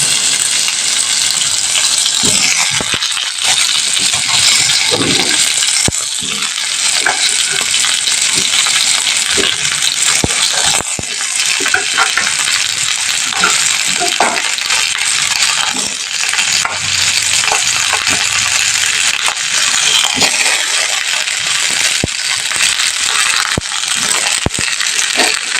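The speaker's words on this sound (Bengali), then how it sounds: "উচ্ছে আর আলুটা আমি তেলের মধ্যে ভাজতে দিয়ে দিচ্ছি" Sliced bitter gourd and potato frying in hot oil with black cumin seeds, a loud steady sizzle broken by repeated scraping and clinking as a spatula stirs the pan, with no voices.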